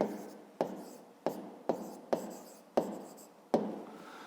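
A pen or pencil writes out a Ukrainian fifth-grade maths exercise on paper, close and quiet, with about seven sharp tap-starts marking each new stroke or digit, followed by soft scratchy rubbing between them.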